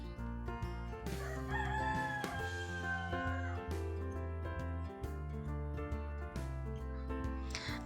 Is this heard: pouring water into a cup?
no